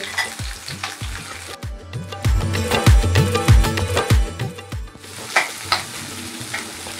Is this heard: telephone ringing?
no